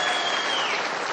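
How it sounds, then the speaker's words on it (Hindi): Applause from a large crowd at a public political meeting in India, a dense, loud wash of clapping hands sustained evenly from start to finish with no voices on top. "जरा एक बार फिर से ताली बजाओ विजय जी के लिए।"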